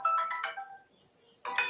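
A phone ringtone plays as a melodic electronic tune in short repeated notes. It pauses briefly, then starts again, loud and close.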